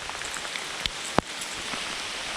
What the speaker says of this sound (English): right as I get back out here, it starts raining heavier